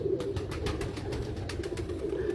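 Teddy breed pigeons cooing close by, a steady low throaty warble repeating under a rhythmic series of soft taps or wing flutters.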